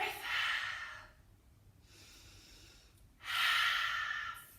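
During a children's animal-pose yoga class, someone takes deep breaths up close, with two long, airy breathing sounds separated by a quieter pause.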